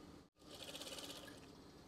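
Sewing machine stitching an eyelet swag curtain, a quiet steady rapid mechanical chatter of the needle after a brief pause, running evenly with no talk.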